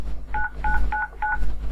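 A MicroSIP softphone call is dialed with four short, evenly spaced dual-tone keypad beeps over a quiet background hum.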